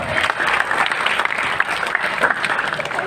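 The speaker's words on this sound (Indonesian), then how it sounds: "Tepuk tangan bagi kita semua." A crowd at an Islamic religious lecture breaks into steady, loud applause, dense clapping that holds evenly throughout with a faint murmur of voices underneath.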